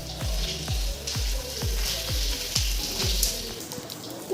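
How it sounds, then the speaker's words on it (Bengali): Rice-flour fritters (bora) frying in a pan, a steady close crackling sizzle with a regular series of soft low thumps underneath, no voices. "এই যে বড়াটা ভাজা, এইটা কিছুটা ভাজা হয়ে গেছে"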